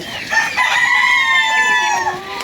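Rooster crowing with a drawn-out call over chickens clucking nearby on a Ukrainian backyard poultry farm, steady and fairly loud throughout the short stretch.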